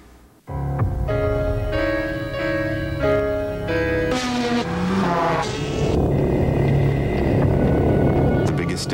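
Race cars roar past in a Bridgestone Potenza tire commercial, with engines whining and tires squealing continuously at a loud, close level.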